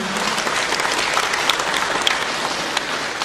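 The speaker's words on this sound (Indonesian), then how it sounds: "tepuk tangan" An audience applauds steadily at a church gathering, a dense, even wash of many hands clapping close by for the whole stretch, with no voices rising above it.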